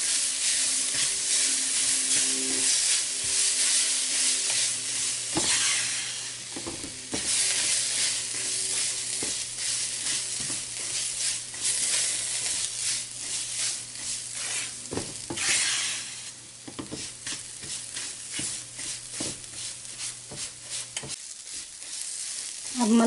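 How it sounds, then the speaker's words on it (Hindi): Semolina and cream are stirred in a pan over a slow flame, a soft continuous sizzle with occasional scraping strokes of a spoon and a faint steady hum beneath, no speech. "अभी हम इसको भी स्लो फ्लेम पे ही अच्छे से हिला लेंगे."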